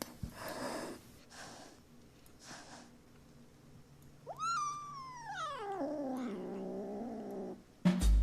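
A very feral young kitten gives a few breathy hisses and snorts, then one long, drawn-out meow that rises and slowly falls, heard close and alone.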